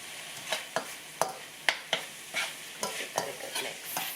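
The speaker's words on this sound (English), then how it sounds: "Let's give that a good mix. And let's continue to brown it just a little bit longer." Onion being stirred into ground beef as it browns in a pan, with a spoon scraping in a steady series of sharp strokes over a soft sizzle close by.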